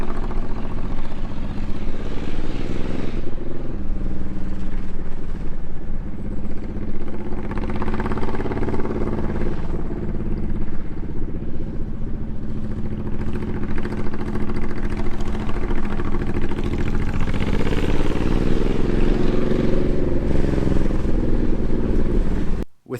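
Honda VTX1800 V-twin cruiser motorcycle being ridden, a steady low engine rumble with rising and falling tone as the rider shifts and varies speed, mixed with buffeting wind noise throughout.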